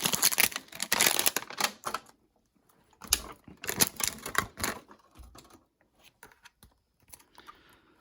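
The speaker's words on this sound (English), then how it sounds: "use some kind of tool to get some leverage underneath that plastic shrink" Plastic shrink wrap on a Springlings Surprise toy pod is pried and peeled open, giving bursts of crinkly, crackling rustles close by, in two main spells with quieter scratching between.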